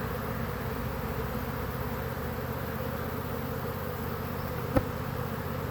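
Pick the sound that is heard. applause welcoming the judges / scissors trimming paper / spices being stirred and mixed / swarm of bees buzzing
swarm of bees buzzing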